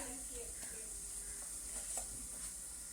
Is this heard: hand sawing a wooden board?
no